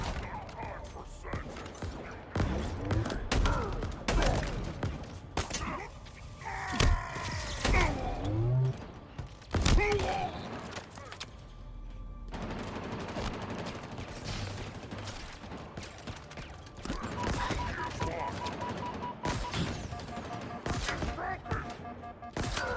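Halo gunfire crackles in dense, repeated bursts with mechanical clanks and thuds mixed in, loud and busy for the whole stretch.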